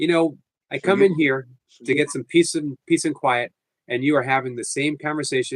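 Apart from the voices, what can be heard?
No distinct noise like a dog, phone or traffic.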